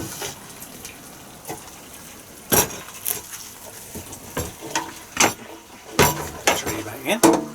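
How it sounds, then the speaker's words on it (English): Air-fried chicken from a Tower 7-litre air fryer is cut on a plate, with repeated clinks and scrapes of cutlery against the plate in uneven bursts over a low background hum. "So we're going to get that onto a plate and cut it"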